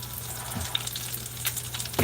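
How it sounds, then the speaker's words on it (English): Fries sizzle in a pan on a home stove, a steady close crackling hiss with a low hum underneath and a few small clinks near the end. "So that means we can get the fries in there."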